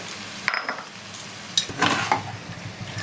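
A spoon stirs fried potatoes into mutton curry in a pot, giving a few soft scraping and clinking strokes over a quiet, low sizzle, with no voices.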